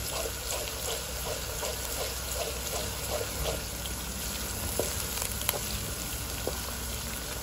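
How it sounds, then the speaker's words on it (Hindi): Onions and ginger garlic paste fry in a pan with a steady, soft sizzling hiss and scattered small pops, continuous and fairly quiet throughout. "इसको भी अच्छी तरह से हम इसमें फ्राई करेंगे"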